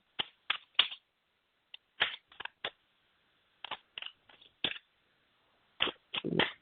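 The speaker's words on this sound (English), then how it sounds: "I'm shuffling the cards right now." Tarot cards are shuffled by hand during a live reading, producing a series of short, crisp riffling bursts in irregular clusters separated by near-silence, close and fairly faint.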